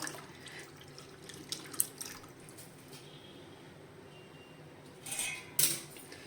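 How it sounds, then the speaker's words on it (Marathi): Hot water is poured into a pot of spicy Maharashtrian katachi amti curry, a low bubbling background that turns to a couple of short, brighter splashing pours near the end, with no voices. "तर मी थोडं ह्याच्यामध्ये गरम पाणी करून थोडंसं घालणार आहे"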